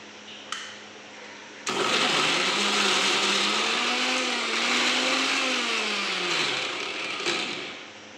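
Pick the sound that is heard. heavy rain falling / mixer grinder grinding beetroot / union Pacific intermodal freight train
mixer grinder grinding beetroot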